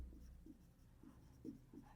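Numbers being written by hand for a math exercise, a soft, faint pen or pencil scratching in a few short strokes, close by and quiet with no voice over it.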